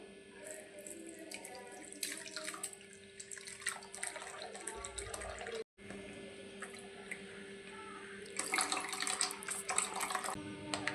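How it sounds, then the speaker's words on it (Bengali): Mashed bael fruit pulp is pushed and strained through a kitchen sieve into a bowl, giving wet squelching and trickling sounds in irregular bursts, close and moderately loud, with a brief break partway through. "আর একটা পাত্র নিয়েছি, আর এই যে একটা ছাঁকনি নিয়েছি, ছেঁকে নেব ছাঁকনিতে।"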